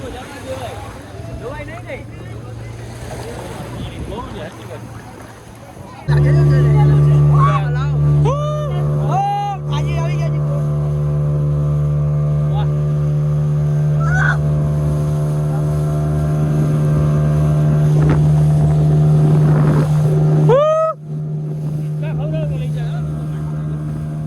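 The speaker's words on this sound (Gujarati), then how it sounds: "અત્યારે આપણે સ્પીડ બોટની રાઈડમાં જઈએ છીએ બેસવા" A speedboat's engine drones loud and steady on a ride at a Dwarka snow park, stepping up to a heavier roar partway through, with voices chattering and a few whistle-like chirps above it.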